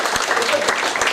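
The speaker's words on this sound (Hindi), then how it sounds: "ताली बजाओ सबके लिए।" An audience at a distributor workshop bursts into steady applause, a dense wash of clapping filling the room.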